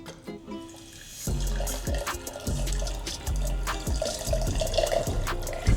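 Cider trickles from a bottle with a small cork spout, a steady splashing pour that starts after a quiet moment and runs on with a bright, close liquid patter.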